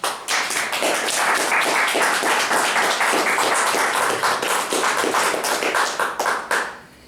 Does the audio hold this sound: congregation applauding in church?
yes